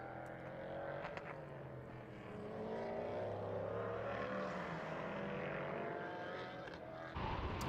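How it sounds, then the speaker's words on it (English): Race car at Portimão circuit accelerating, a distinctive engine note rising and swelling in pitch, heard from a distance with a broad roar that builds and then cuts sharply near the end. "Such a distinctive engine note on this car versus the LMP3s, as you can hear."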